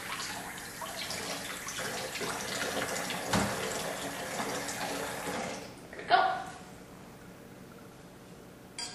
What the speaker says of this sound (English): Since I can't submerge my whole horn in the water, I'm just going to get a little running water.